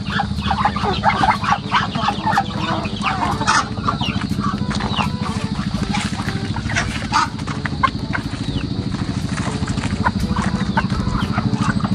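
A flock of chickens clucks and chatters continuously nearby, a busy overlapping stream of calls over a steady low hum.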